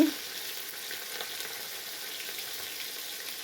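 Vegetable bhaji frying in a pan on an electric stove, a continuous even sizzle with faint stirring, close and steady for the whole stretch, no voices.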